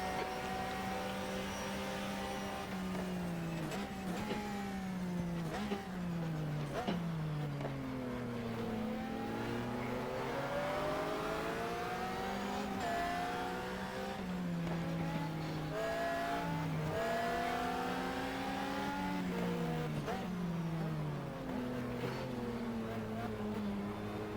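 Race car engines in the racing game GTR2 howl continuously, revving up and dropping repeatedly through gear changes and braking, loud and close throughout with no talking.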